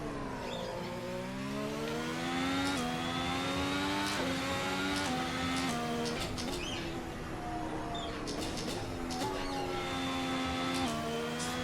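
An IndyCar race car engine in a sim racing game lap on a Canadian track whines steadily at high revs, pitch dropping briefly at each gear shift and climbing again, with no talk.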